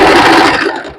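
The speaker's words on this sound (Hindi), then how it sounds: "ये देखिए, अब इसको ऐसे सिल लेंगे" A sewing machine stitches kurti fabric in a short loud burst of motor whirr that fades toward the end, with no talk over it.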